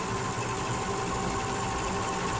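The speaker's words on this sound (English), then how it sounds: "Place your two pieces of fabric right sides together and guide them through the machine" A Simplicity Easy Lock serger stitches a fabric seam with a steady, even mechanical whir and rapid chatter, running continuously at constant speed up close.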